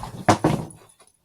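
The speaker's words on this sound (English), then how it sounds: "Yeah, man, that dog drives me nuts." A dog gives two quick, close barks or yips in a row, loud and short, the second trailing off into a brief whine before silence.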